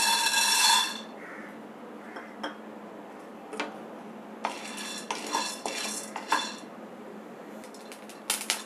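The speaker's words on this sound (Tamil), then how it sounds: "சோயாவும் நல்லா வறுபட்டுருச்சுப்பா" Soya dry-roasting in a pan while being stirred, an opening burst of bright scraping followed by intermittent clatters and rattles of pieces and spoon against metal, fairly close, without speech.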